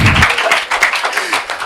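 An audience at a Malian talk show applauds, a dense, loud burst of clapping that rolls steadily through the short moment.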